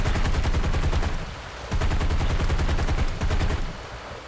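Aircraft machine gun fire in War Thunder, two long rapid bursts of loud, dense rattling shots with a short pause between them.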